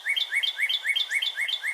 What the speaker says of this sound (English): There's not a huge amount of variation with our cardinals, but what cheer, and birdie, birdie, birdie are